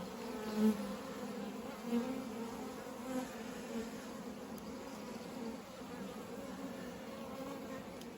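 Honeybees buzzing steadily around an open hive during an inspection at an out apiary, a continuous insect drone with a few louder swells as bees pass near.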